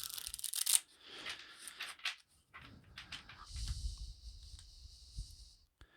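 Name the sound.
shuffling a deck of cards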